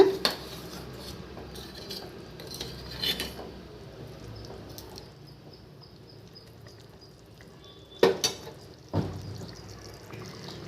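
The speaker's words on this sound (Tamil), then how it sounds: "இப்போ நல்லா கரைச்சி விட்டுடுங்க" A spoon stirs and mixes thorny nightshade gravy in a metal pot, making scraping clinks and clatters near the start and sharper knocks toward the end over a low bubbling background.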